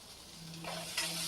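Onion, green chili, ginger and garlic sauté in a hot pan, giving a brief, steady close sizzle that swells as a stir scrapes through near the end.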